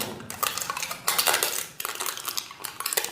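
A copper plate set down over the mouth of a small clay pot, heard as a run of close metallic clinks and rattling taps in quick bursts, with no voices.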